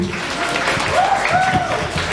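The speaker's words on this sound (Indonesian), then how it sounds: "Tepuk tangan sekali lagi" An audience at a school culture and language week event claps briefly, a moderate patter of hands with a voice faintly present underneath.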